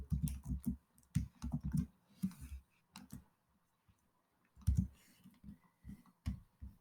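Computer keyboard typing Python code, clustered bursts of quick key clicks with short pauses between, fairly close and alone without any talk.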